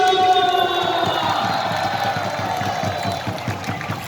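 A large crowd at an outdoor rally cheers and claps loudly, a dense roar of voices with whoops and rhythmic clapping building throughout.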